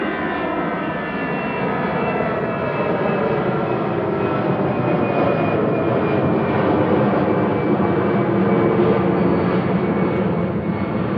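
A passenger jet departing Manchester Airport on flight 2184 to Brussels roars in a loud, sustained engine drone with a rising whine, heard steadily throughout with no talking.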